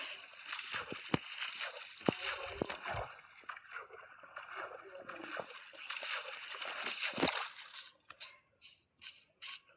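Boat gliding across water in Minecraft, a steady hissing wash with soft splashy paddle bursts and chirping insect-like ambience, ending in a few separate louder pulses, no talking.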